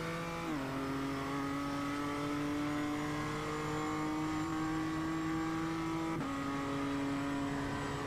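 A race car engine in a racing simulator game holds a steady high drone, shifting pitch with gear changes as it accelerates, continuous and fairly loud throughout.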